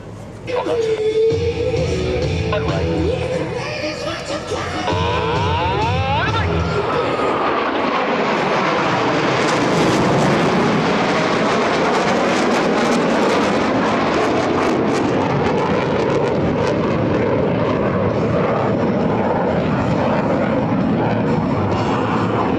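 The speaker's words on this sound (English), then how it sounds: "each pilot will perform an individual brake turn and exit the flight line in a separate direction" US Navy Blue Angels jets at the NAS Patuxent River air show, each performing a break turn. A loud, sustained roar swells and sweeps past over the crowd, with an announcer heard early on.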